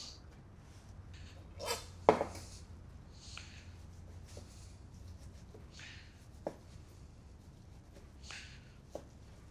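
A knife chops raw beef for steak tartare on a board, with a few sharp cuts and scattered softer taps spaced unevenly over several seconds in a quiet room.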